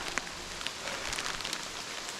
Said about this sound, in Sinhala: මෙන්න මේ වගේ පට්ට වැස්සක නගින්න යන්නත් බෑ